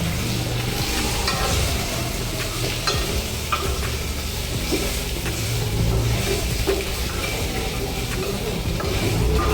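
Mango pieces for a traditional pickle are stirred with spices including fennel and asafoetida in a pan, producing a loud, continuous scraping and sizzling with irregular strokes and no speech.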